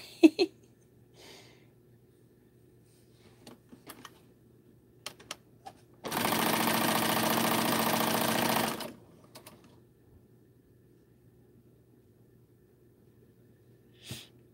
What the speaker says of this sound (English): Got to make sure I sew this together right.